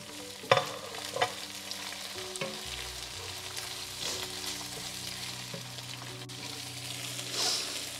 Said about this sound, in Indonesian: Habis itu digoreng lagi.